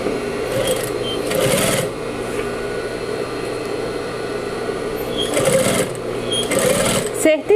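A sewing machine stitches a synthetic fabric pouch in quick whirring bursts, running in short runs with pauses between them while someone talks over it.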